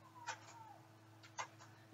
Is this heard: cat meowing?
yes